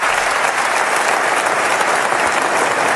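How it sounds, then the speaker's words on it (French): Loud, continuous applause from a large crowd inside Notre-Dame de Paris cathedral at its reopening, a dense wash of clapping that holds steady throughout. "Près de 5 minutes d'applaudissements"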